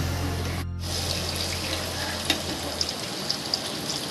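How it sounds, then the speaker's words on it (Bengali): Mutton sizzling and frying with chopped onions in a pan for an Eid mutton biriyani, giving a steady broadband hiss with a few small crackles and pops, and no voices. "মাটনটা আমি এবার পেঁয়াজের মধ্যে ছেড়ে দেবো।"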